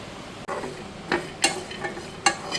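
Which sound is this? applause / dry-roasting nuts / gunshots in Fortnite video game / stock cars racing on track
dry-roasting nuts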